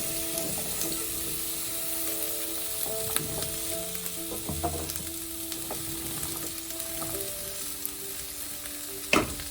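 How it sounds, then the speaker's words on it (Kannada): Mixed vegetables sautéing in a little oil on a tawa for bisi bele bath, a steady close sizzle with occasional scrapes and clinks of stirring, no talk. "ಈ ತವಾನಲ್ಲಿ ಒಂದು ಸ್ವಲ್ಪ ಎಣ್ಣೆ ಹಾಕಿ ತರಕಾರಿಗಳೆಲ್ಲ ಹಾಕ್ಕೊಂಡು ಸ್ವಲ್ಪ ಎಣ್ಣೆಯಲ್ಲಿ ಬಾಡಿಸ್ಕೊಳ್ತಾ"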